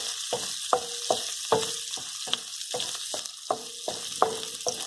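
Hawaiian bar-food fried rice frying in an oiled pan under a steady sizzle, with about a dozen regular scrapes and clacks from a utensil stirring it, close and fairly quiet.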